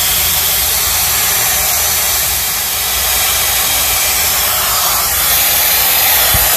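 Hot air brush fitted with a volumizer nozzle blows on hair, a steady, loud, broadband whoosh of airflow that runs continuously and alone for several seconds.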